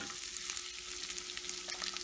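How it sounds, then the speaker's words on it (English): Cashews sauté in a pan for beetroot halwa, making a continuous soft frying sizzle with light stirring scrapes, close and fairly quiet throughout. "add cashews. Sauté it well until light golden brown color"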